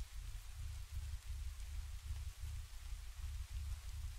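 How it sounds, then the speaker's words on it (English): Rain in the horror game Reprobate makes a steady, soft patter with a pulsing low rumble under it, faint and continuous with no voices. "I like the rain."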